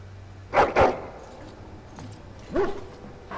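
A dog in the video game Dragon Age: Origins barks three times: two quick close barks in a row, then a single bark after a pause, over a quiet background.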